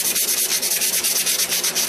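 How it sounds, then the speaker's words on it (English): Steady, rhythmic hand sanding of a knife handle with wet sandpaper, a close, loud rasping rub repeating in even back-and-forth strokes with no voices. "Now sanding by hand is going to give it a natural curve"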